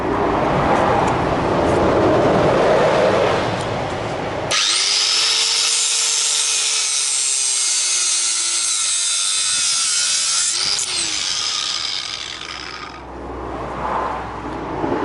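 A CB500 motorcycle chain is cut with a power tool, likely an angle grinder, making a loud continuous high-pitched grinding whine that holds for several seconds, with rougher mechanical noise before and after.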